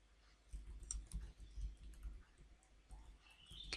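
Computer keys click at close range as a git branch command is typed into a terminal, a quick uneven run of soft taps over a faint hum.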